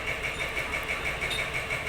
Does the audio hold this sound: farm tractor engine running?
yes